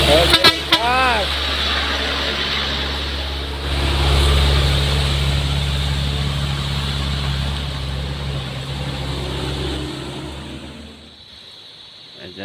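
A Fuso 6x4 truck rumbles past nearby on a road in Aceh, giving a short burst of horn toots at the start over its loud, steady engine drone, which fades near the end while people talk.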